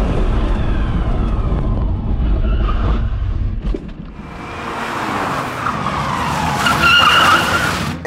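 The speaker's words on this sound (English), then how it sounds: "Once I get to the cones, I'm gonna slam on the brakes" A car brakes hard from 60 mph, its tires skidding and squealing loudly on pavement for several seconds, rising to a sharp screech before cutting off.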